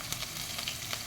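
Whole garlic cloves, crushed, sizzle in hot oil in a pan: a soft, steady frying hiss with a few faint crackles, quiet and without voices.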